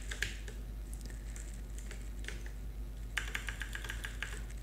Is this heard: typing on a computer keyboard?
yes